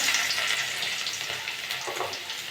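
Chopped garlic frying in oil with panch phoron gives a steady, bright hiss and crackle throughout, close and moderately loud, with faint stirring scrapes and no voices.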